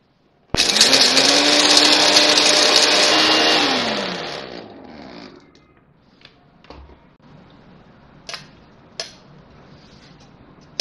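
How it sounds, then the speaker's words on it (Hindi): An electric grinder whirs loudly for about three seconds while grinding roasted spices, then winds down and stops, followed by quiet handling clicks and taps. "ये मसाला मैंने पीस लिया है"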